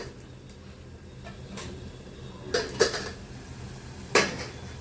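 A metal lid is lifted off a cooking pot of vegetable pulao, giving a few sharp clanks and clinks over a quiet kitchen hum.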